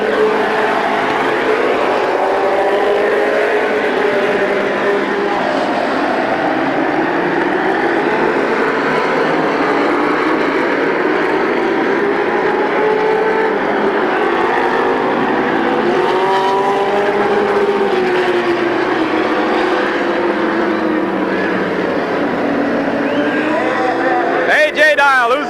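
Race cars at Midvale Speedway in 1991, a loud sustained engine drone with rising and falling pitch as cars pass, under continuous announcer commentary.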